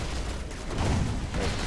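Gunfire barrage against a Warhound in the strategy game Rise of the Reds, a dense rumbling fusillade of rapid shots and booms lasting a couple of seconds, fairly loud with no clear talk.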